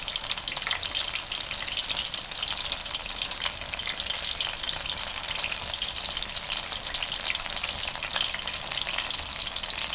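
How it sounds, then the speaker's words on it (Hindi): Spicy green masala pakoras deep-frying in oil in a wok give a steady, dense sizzle that crackles continuously throughout, close and even in loudness. "हमें बहुत कढ़ाई भर के नहीं एक टाइम में पकौड़े तलने चाहिए"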